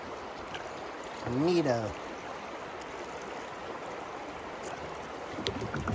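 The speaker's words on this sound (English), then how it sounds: "Fast water." Fast-flowing river water rushing around a kayak in North Georgia, a steady broadband wash heard close, with a short exclaimed voice partway through.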